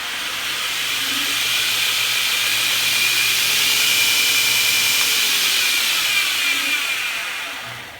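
An Esteem knife-making belt grinder runs slowly and steadily, giving a smooth hissing whir with a low motor hum underneath, close and even throughout with no speech.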